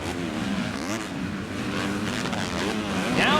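Motocross racing bikes at a 2009 AMA National race roar past, their engines rising and falling in pitch with revving and shifting, loud and fairly close, with no talking.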